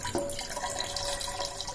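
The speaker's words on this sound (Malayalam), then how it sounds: "ഇപ്പൊ സാഗോ ഊറാൻ വെച്ചില്ലെന്ന് ഈ പാല് മാത്രം നമ്മൾ ഇതിലേക്ക് ഒഴിക്കുകയാണ്." Milk pours into a pan for sago kheer with a steady, soft liquid splash and trickle, faint and continuous, with no talking over it.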